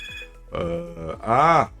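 A telephone rings in short bright tonal bursts, a few electronic ring pulses in quick succession, clear and close with no talk.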